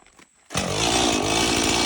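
A Stihl chainsaw bursts to life after a brief quiet moment and then runs at a loud, steady, buzzing roar close by, the engine holding high revs until the end.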